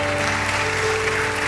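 A church congregation claps in praise, a steady wash of dense clapping with a faint sustained tone beneath, heard for a moment without talk.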